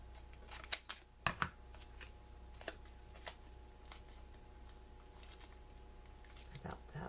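Scissors snip paper while a Valentine's Day card is being made, a few quiet close cuts clustered early and then sparse light snips against faint room hiss, no talking.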